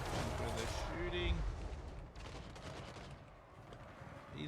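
Rapid battlefield gunfire from ranged units in Total War: Warhammer 3, a dense crackle of shots and booms under a voice talking throughout.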